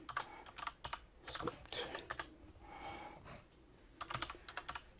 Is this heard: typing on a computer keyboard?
yes